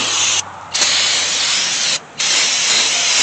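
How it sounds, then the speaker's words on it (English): A can of brake parts cleaner sprays in a loud, close, continuous hiss over truck brake parts during a brake job, broken by two brief pauses before the spraying resumes. "I take my brake parts cleaner and just liberally spray everything"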